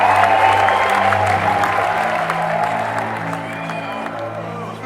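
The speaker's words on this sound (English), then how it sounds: "The crowds cheered." A large crowd applauding and cheering at a celebration of war veterans, a steady dense wash of clapping and scattered whoops that holds loud and slowly eases off, with no talk over it.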